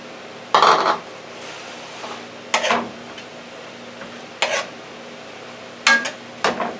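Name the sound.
onions and celery cooking in a pan for homemade stuffing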